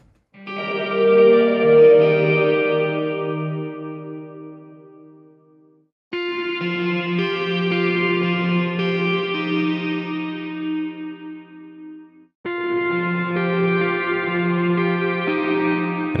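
Distorted electric guitar harmonics in the first position ring out through amplifiers, three sustained shimmering chords with long decays and no voices.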